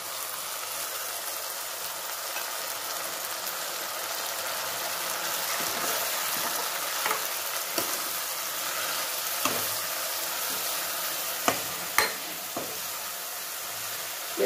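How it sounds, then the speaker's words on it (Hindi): Green beans frying in oil in a pan, a steady soft sizzle running throughout with a few sharp clicks and scrapes of stirring toward the end, no voices. "हमारी फलिया एकदम फ्राई हो गई है।"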